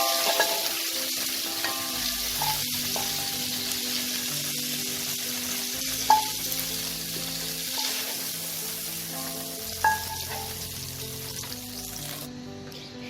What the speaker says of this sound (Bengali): কপিটাকে আমি লাল করে ভেজে নেব